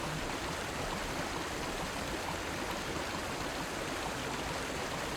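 A waterfall in the video game Baldo: The Guardian Owls gives a steady, dense rushing roar that stays constant and loud throughout, with no voices.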